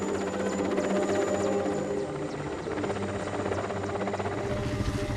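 A ship-based helicopter's rotor and engine drone steadily throughout while delivering cargo on Wrangel Island, a dense continuous buzzing roar at moderate volume with no speech.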